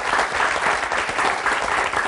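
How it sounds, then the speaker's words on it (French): Studio audience applause on a television talk show, a dense steady clapping from a crowd that fills the whole stretch at an even, loud level. "Bravo, ça s'applaudit"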